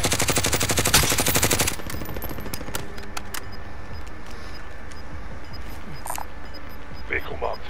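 Automatic gunfire in a Call of Duty: Modern Warfare match, with a loud, dense rapid-fire burst over the first two seconds followed by scattered shots and game noise under voice chat.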